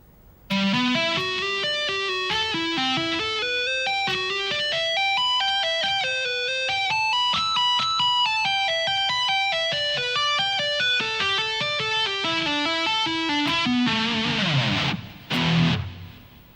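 Slow shred lick on electric guitar using tapping and pull-offs, a steady stream of clear, separate high notes descending in repeated patterns, played alone and ending in a brief scrape.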